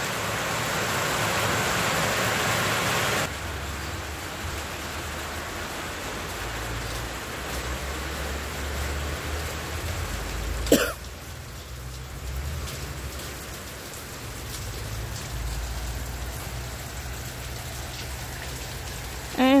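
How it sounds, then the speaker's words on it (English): Steady rain falling outdoors onto a tray of plant seedlings, a continuous dense hiss of drops with one sharp tap midway, no voices. "I will just put it out into the rain and let the rain water it all in."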